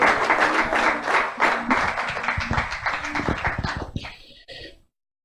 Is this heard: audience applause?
yes